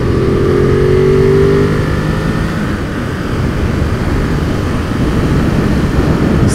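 A 2021 Ducati Monster motorcycle engine roars close by, its pitch climbing in a rising rev before settling into a rough, steady rumble.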